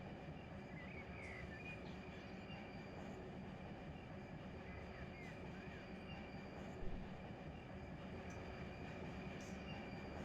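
Locomotives rolling in the Run8 train simulator game, a steady low rumble of rail noise with faint wheel squeal and a brief clank near the end, continuous and moderately distant.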